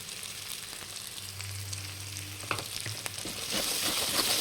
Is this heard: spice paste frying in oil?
yes